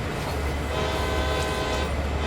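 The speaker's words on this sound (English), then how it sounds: "Blast our horn as we go past that intersection there." An SD-40 diesel locomotive horn sounds in Train Sim World 2 while hauling a long manifest of boxcars on the Clinchfield line, a steady sustained blast over rumbling rail noise, loud and close throughout.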